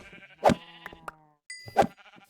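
Two short sheep bleats from the Minecraft modpack Engineer's Life, close and clear, one after the other with a brief gap between, alone without talk.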